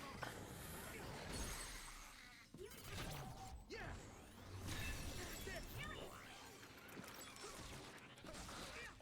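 An object is smashed during combat in the video game Scarlet Nexus, with loud crashing and shattering amid a dense, busy mix of game effects, and voices talking over it.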